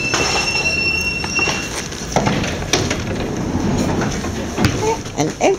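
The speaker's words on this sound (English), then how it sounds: "An empty-ish train." A London Underground train pulls into Acton Town station, its wheels squealing and rattling over the rails with clattering bursts close by, and light talk now and then.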